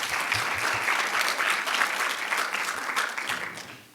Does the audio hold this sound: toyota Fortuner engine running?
no